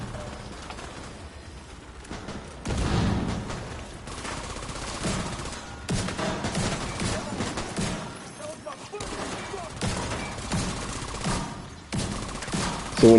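A shotgun fires repeatedly in the Division 2 shooter game: sharp, loud blasts come in irregular bursts over dense battle noise, with brief quieter gaps between volleys.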